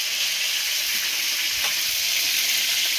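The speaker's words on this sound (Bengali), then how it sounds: "মাংসগুলো আমি যেই কালার করে ভেজে নিচ্ছি একদম ব্রাউন ব্রাউন কালার করে এভাবে ভেজে আমি রান্না করবো" Pieces of meat fry in a pan until brown, giving a steady, close sizzle with light crackling and no voices over it.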